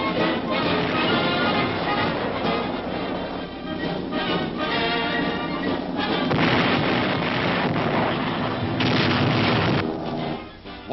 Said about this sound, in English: the bombers pound the Asiatic coast and Jap bases elsewhere, while another group strikes heavily at Jap shipping